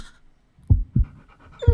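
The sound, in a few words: big brown dog panting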